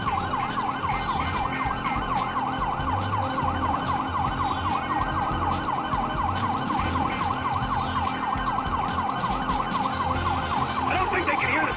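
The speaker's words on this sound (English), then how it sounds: "I don't think they can hear the sirens." A wailing police siren in Grand Theft Auto V cycles steadily and loudly throughout, with constant engine and road rumble beneath it.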